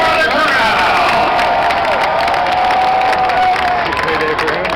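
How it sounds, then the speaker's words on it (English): Huge crowd at the Indianapolis 500 roars and cheers for the race winner, a loud, continuous wall of shouting, whooping and clapping with whistles rising above, with people talking amid it. "The roar of the crowd."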